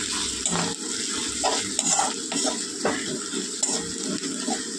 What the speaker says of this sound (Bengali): এবার এটা ভাজা করে নেব।